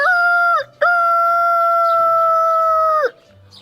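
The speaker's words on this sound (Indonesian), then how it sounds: "terdengarlah di pagi hari suara ayam jago berkokok dengan kuatnya" A rooster crows loudly and close by in the morning, one long sustained call after a short opening note, with quiet background behind it.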